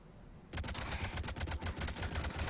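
Rapid automatic gunfire from a weapon in Mass Effect 3 on the Xbox 360, played on Insanity difficulty, starts after a brief quiet moment. A loud, steady stream of closely spaced shots follows and continues to the end.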